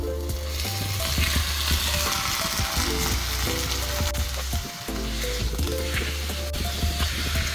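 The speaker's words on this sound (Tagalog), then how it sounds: "So, once na golden brown na yan lahat, pwede na natin ilagay yung ating chicken." Chicken fries in a pan with a loud, dense, continuous sizzle, close up, with stirring scrapes over it and one brief dip partway through.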